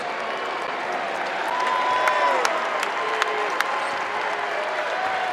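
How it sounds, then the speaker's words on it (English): The Tar Heel home crowd at a UNC basketball exhibition game gives a player a steady ovation of dense applause and scattered cheers that swells slightly midway, with a few sharp court squeaks or claps poking through. "Nice ovation from the Tar Heel crowd for the senior Black."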